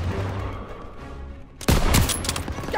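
Gunfire in Call of Duty WWII during a street battle with a half-track attacking from the rear: a quiet rumbling lull, then a sudden loud burst of rapid shots and bangs that keeps crackling to the end.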